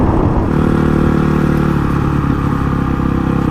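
Honda CRF 450 dirt bike engine under load while overtaking on a road across double white lines: a loud, close, steady mid-pitched engine drone holds through the whole stretch with no talk over it.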